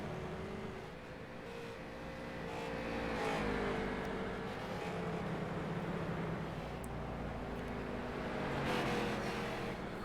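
Race car engine in the Concord racing sim, droning steadily as it pulls out of the pits, rising and falling in pitch at moderate loudness, with no voices.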